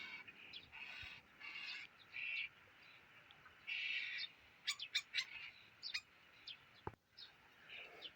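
Distant starlings in a neighbouring apple tree call repeatedly in raspy, chattering bursts, with a few sharp clicks and whistles, fairly faint against a quiet outdoor background.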